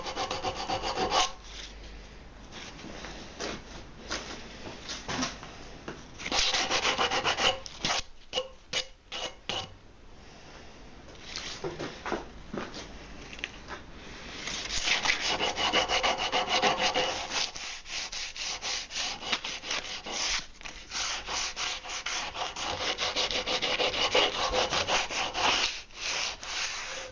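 Sandpaper rubs over the ends of a repaired wooden spar to smooth them. The rhythmic, raspy back-and-forth strokes are close and fairly loud, come in bursts with short pauses, and carry on alone with no voices.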